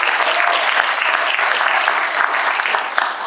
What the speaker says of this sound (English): Let's give Yogi a round of applause